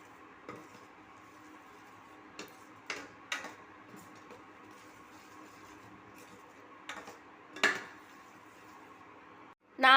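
A spoon scrapes and knocks now and then against a pan while a peanut candy mixture is stirred, with a few sharp clinks over a faint steady hiss, fairly quiet and close.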